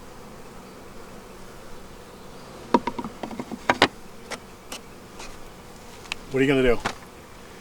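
Honeybees buzz around an open blue hive during spring work with flow frames, scattered short buzzes darting close past amid a faint background hum, with a brief quiet spoken question.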